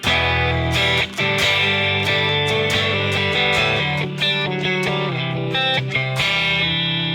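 Electric guitar chord changes played smoothly and continuously through a light distortion effect, with steady strummed chords flowing one into the next without gaps, loud and close.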